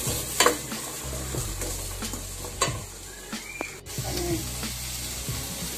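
Onion sautéing in hot oil for chicken tinola, a steady quiet sizzle broken by a few sharp clinks and scrapes of stirring, with a running-water sound nearby.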